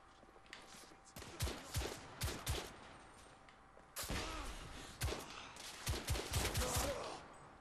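Rifle shots crack out in The Order: 1886 inside London's Whitechapel Hospital, a series of sharp separate reports in irregular clusters, fairly close, with gaps between volleys.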